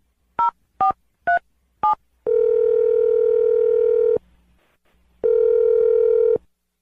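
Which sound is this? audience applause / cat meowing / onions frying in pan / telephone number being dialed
telephone number being dialed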